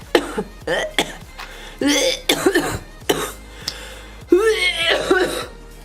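Repeated harsh coughing fits, close and loud, in several bursts with short pauses between them.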